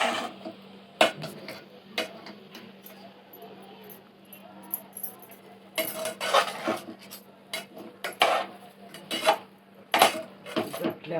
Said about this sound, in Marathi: आता याला चांगलं मिक्स करायचं आहे